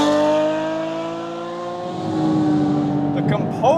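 Porsche Cayman GT4 RS engine at high speed, a loud sustained high-revving wail climbing in pitch toward 8,000–9,000 RPM, heard from inside the car with a brief shift blip near the end.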